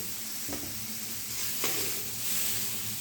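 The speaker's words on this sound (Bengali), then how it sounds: "ওই তেলের মধ্যেই ভেজে নেব আমি আগে থেকে সেদ্ধ করে রাখা এঁচড়।" Boiled raw jackfruit frying in hot oil in a kadai, a steady close sizzle with occasional stirring scrapes and no voices.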